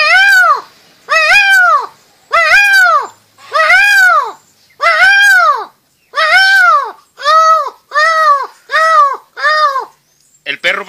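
A human voice imitating a male peacock's call, a series of ten loud, wailing cries evenly spaced with short pauses between them.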